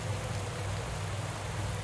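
Rain in the cycling video game Pro Cycling Manager 2021 hisses as a steady, dense wash of noise with no pauses or voices.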